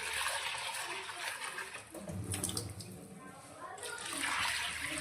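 Mixed pulses rinsed under running water in a strainer, a steady splashing and trickling stream that briefly dips and swells again, recorded close and fairly quiet.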